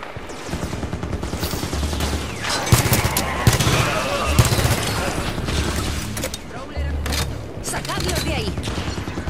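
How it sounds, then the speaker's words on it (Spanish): Automatic turrets firing in a Halo 5 Guardians battle, with rapid, loud bursts of gunfire and sharp impacts mixed with booms, and voices speaking over the shooting. "Torretas activas y disparando."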